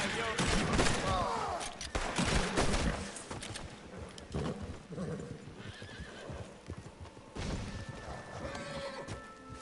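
Gunfire and a horse in a PS4 video game: galloping hooves, whinnies and bursts of shots that burst out loud and then ease off, ending with quieter, scattered effects.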